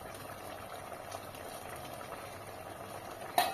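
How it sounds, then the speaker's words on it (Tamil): Ridge gourd and lentil kootu simmering in a pot, a soft, steady bubbling that is faint and continuous, ending in a brief louder knock. "விட்டுட்டு கொஞ்ச நேரம் கொதிக்கட்டும், இப்படியே இருக்கட்டும்"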